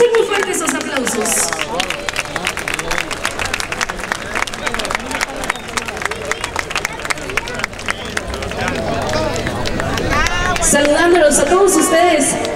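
At a public event in Navojoa, a crowd breaks into sustained, dense applause with cheering and babble, swelling toward the end while a voice talks over it.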